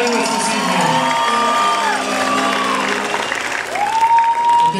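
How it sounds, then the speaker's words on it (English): Graduation crowd at Aztec High School's Class of 2023 ceremony applauding the school band, a steady wash of clapping mixed with cheers and whoops, with band instruments playing through it. "Let's give another quick round of applause to our band for walking in our graduates this evening."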